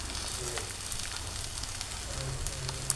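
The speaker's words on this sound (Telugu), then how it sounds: "మొత్తం అంతా కలిపి ఫ్రై కొంచెం అవ్వాలి" Cauliflower masala curry fries in a pan with a steady, even sizzle and crackle of hot oil, continuous and fairly close, with no talking over it.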